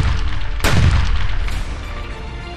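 An IED detonates near a Naxal camp in a single loud, close blast with a deep booming rumble that rolls on and slowly decays.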